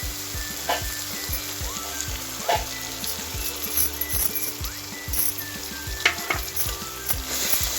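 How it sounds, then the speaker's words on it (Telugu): Tindora (ivy gourd) masala curry fries in a pan with chilli, salt and masala paste, a steady close sizzle broken by regular scraping stirs throughout, no voices. "ఇది కొంచెం మంచిగా ఉప్పు కారం మసాలకు పట్టేంత వరకు జర ఫ్రై కావాలి"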